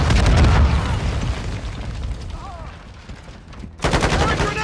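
Grenade explosion in Call of Duty: Modern Warfare II multiplayer, a loud booming blast with mixed gunfire, fading to rumble before another burst of noise, with game voice callouts over it.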